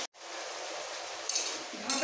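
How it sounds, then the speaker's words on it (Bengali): Potatoes fry in hot oil in a pan, a steady broadband sizzle filling the clip after a brief silent gap at the start, with a couple of brighter hissing bursts near the end, close and alone. "আর মাঝে মাঝে একটু ওপর নিচ করে দিলেই আলু ভাজা হয়ে যাবে"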